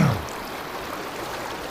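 A trout river flows over rocks in a steady, close rushing wash that follows a brief louder thump at the start and then continues evenly with no voices.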